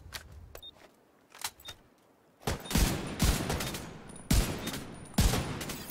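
Gunfire in the shooter game The Division 2, with sparse isolated shots at first, then heavier bursts of rapid firing that swell and pause, fairly loud and close, with no talking.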